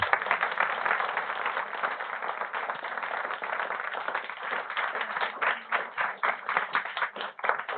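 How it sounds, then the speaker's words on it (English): A room full of people claps in a round of applause at a forum, steady and dense at first, then thinning into separate, more distinct claps toward the end, heard alone without voices. "can we have a round of applause for us?"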